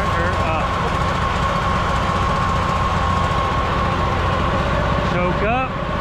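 A pressure washer's gas engine runs at a loud, steady drone with a constant hum for the whole stretch, and a person talks over it.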